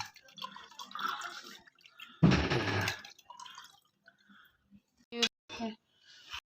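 Cold water splashes briefly into a glass for homemade orange squash, a short pour of under a second amid quiet kitchen clatter, with a few soft clicks and faint drips afterward.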